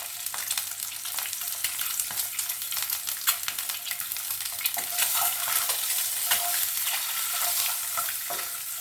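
Eggs frying in a pan for Bengali dimer do pyaza, with a little turmeric added, hiss loudly and continuously while a spatula scrapes and stirs in irregular bursts close by, with no talking.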